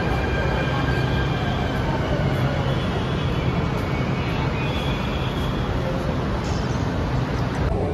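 Steady loud rumble and roar inside a moving Delhi metro train, continuous wheel and track noise with faint high squeals near the end, no clear talk over it.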